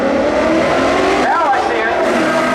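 A Camaro and a Mustang launch side by side in spectator drag racing at New Smyrna Speedway in 2022, engines roaring loud and steady with rising revs, while a voice talks over the noise.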